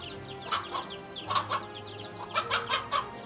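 A mother hen clucking as she fights a cobra and guides her chicks away: clusters of sharp, agitated clucks in quick bursts, moderately near over quiet rustling.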